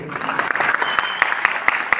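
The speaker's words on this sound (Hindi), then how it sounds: "मेरी वाइफ के लिए तालियां बजा देंगे।" An audience claps for a man's wife, the applause audible as rhythmic, slightly uneven clapping with some sharp individual claps standing out against a murmuring room.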